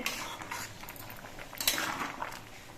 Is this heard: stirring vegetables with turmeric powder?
yes